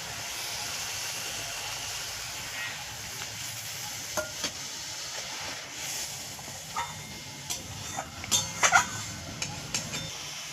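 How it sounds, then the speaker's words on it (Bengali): Curry gravy bubbling in a pan gives a soft, steady sizzle and hiss, with scattered small pops and spatters growing more frequent toward the end. "ঝোলটা ফুটে উঠেছে"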